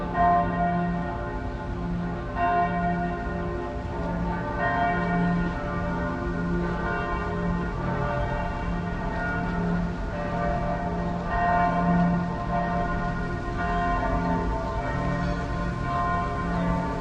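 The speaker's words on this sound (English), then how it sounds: "you can still hear the church bells" Church bells in Germany ring continuously, their layered tones overlapping and swelling in a steady, resonant peal heard from a moderate distance, with no voices.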